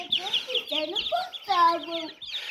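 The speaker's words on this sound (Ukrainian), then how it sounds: "Кажу до Іванки, піди купи мені три качечки і три гусочки" High, rapid peeping and chirping from ducklings and goslings close by, continuous and busy, with several overlapping calls.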